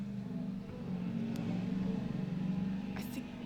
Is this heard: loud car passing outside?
yes